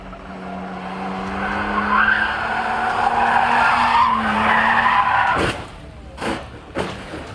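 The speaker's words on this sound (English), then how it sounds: "A car hurtles forward on the bend with unrelenting speed. Its trajectory abruptly interrupted as it collides with a hillside." A car sliding through a hillside bend gives a long, loud tire squeal and skid over engine noise, then a sharp crash as it hits the hillside, followed by a few scattered impact thuds.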